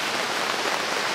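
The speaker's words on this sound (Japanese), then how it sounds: "普 通の雨になります。" Steady rain patters down at a family campsite, a dense even hiss of drops on surfaces, close and continuous with no voices.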